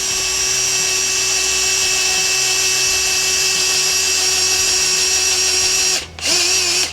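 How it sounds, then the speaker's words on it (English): A power drill runs with a loud, steady high whine for several seconds while raising a heavy-duty offroad scissor jack under a van, briefly stopping and then spinning up again near the end. "I got my drill."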